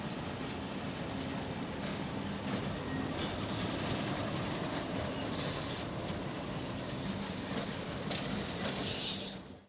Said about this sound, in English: So today it was a 44 and an 80 class, both Alco locomotives.